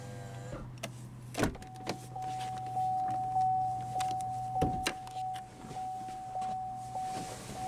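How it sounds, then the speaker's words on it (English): The driver's power window of a 2015 Chevrolet Spark EV rolls down with a steady electric motor whine lasting several seconds, close up, with a couple of soft clicks and knocks around it. "now we'll go ahead and roll down the driver's window"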